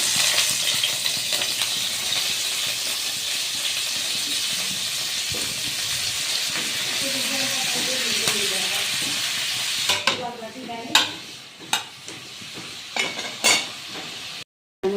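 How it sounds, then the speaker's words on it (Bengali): Jackfruit pieces fry in hot oil and are stirred, a loud steady sizzle followed by spoon scrapes and clatters against the pan near the end. "কাঁঠালগুলোকে দিয়ে দিচ্ছি। তেলটা গরম হয়ে গেছে।"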